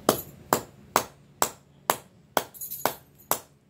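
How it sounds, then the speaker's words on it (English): A metal spoon ring is hammered by hand to set its end in place: about eight sharp, evenly spaced strikes roughly half a second apart, each ringing briefly and decaying, close and clear with no talking. "all I have to do now is hammer that down into place so it's not sticking out."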